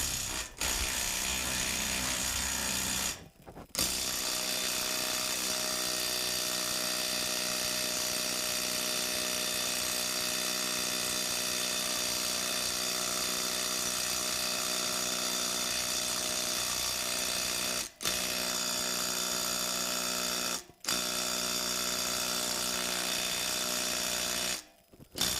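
A DeWalt Xtreme 12-volt 3/8-inch impact wrench runs in long sustained bursts, a loud, harsh mechanical buzz with a few brief stops between runs.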